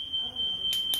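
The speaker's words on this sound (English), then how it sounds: "Oh, fire alarms are going off." During a power outage, a fire alarm keeps up a steady high-pitched tone, with two brief bursts of harsher noise near the end.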